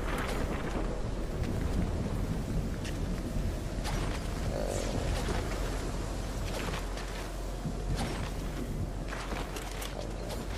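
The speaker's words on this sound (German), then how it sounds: "Ach, scheiße, der Sturm macht voll viel Schaden." Storm zone in the Fortnite video game, a steady low rumbling wash of wind-like noise with faint crackles running continuously throughout, loud and unbroken.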